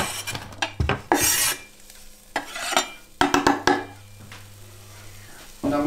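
Garlic, red onion and chili tossed into a pan and stirred, with a light frying sizzle broken by repeated clattering scrapes and knocks of a utensil against the pan; no speech.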